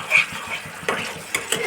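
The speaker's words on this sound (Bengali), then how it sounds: "আঁচ কমিয়েই আমি কষাচ্ছি কিন্তু" Fish masala being stirred and sautéed over low heat in a pan, a few quick scraping strokes and clinks of a spoon against the pan over a faint sizzle.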